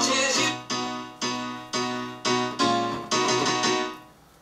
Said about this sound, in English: So we wrote a little piano chord sequence